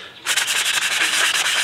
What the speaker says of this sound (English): we are going to take our sanding block